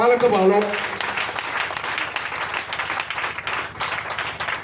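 A church congregation breaks into sustained applause and cheering to acclaim the Lord, a dense steady wash of clapping with voices mixed in, holding at an even level throughout.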